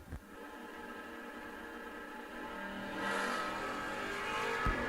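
No-box drag racing cars, a Starfire and a Camaro, rumble at the line, then engines swell louder and rev hard toward launch, heard from a distance at the strip.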